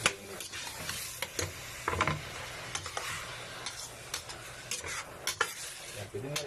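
Chicken sautéing in a pan for apritada sizzles steadily while a utensil stirs and scrapes in irregular close clicks and taps throughout.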